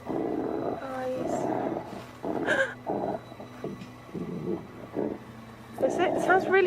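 An unseen creature growls in the woods, low rumbling bursts beneath frightened voices calling out and talking near a car.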